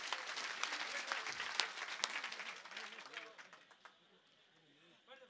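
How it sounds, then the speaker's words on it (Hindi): Dense audience applause at a Hindi kavi sammelan poetry gathering, loud and sustained clapping that fades out after a few seconds, with brief later claps. "एक बार सब लोग दोनों हाथ ऊपर उठाकर ताली बजाएं।"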